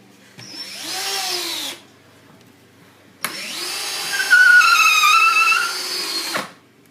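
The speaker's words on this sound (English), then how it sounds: "Get 2 screws and your drill gun. Drill them in." A power drill gun drives two screws at an angle into the wood of a cornhole board, two bursts of close, loud motor whine, the second longer and rising in pitch as the screw bites.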